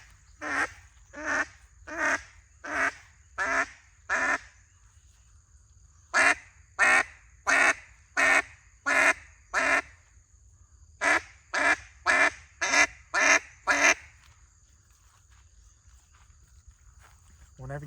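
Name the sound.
duck call quacking, cutdown calling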